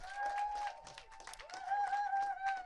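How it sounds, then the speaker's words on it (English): Applause rises at a press conference on financial relief for the performing arts, a thin crowd clapping briefly with a couple of whistles or tonal sounds carrying over it. "big round of applause"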